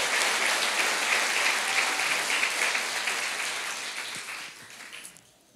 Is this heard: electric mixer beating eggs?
no